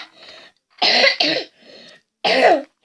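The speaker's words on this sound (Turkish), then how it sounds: "öksürük geldi" Two harsh, close coughs break out one after another, separated by quieter breathy throat sounds.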